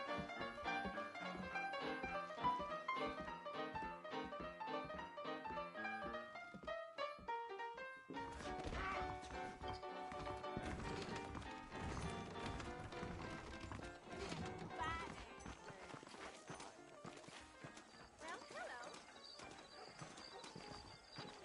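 Horse hooves clip-clop at a steady walking rhythm in Red Dead Redemption, clear and fairly close, layered over a musical score throughout.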